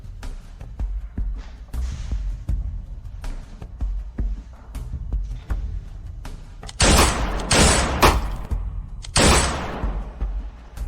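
A burst of three loud, close gunshots fired in quick succession at a shooting target, then a fourth after a short pause, ringing over a quieter scene with scattered faint knocks and no talking.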